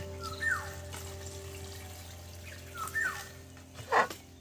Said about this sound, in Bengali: এই জলটা দিয়ে দিলাম আমরা আরও একটু জল দিয়ে দিচ্ছি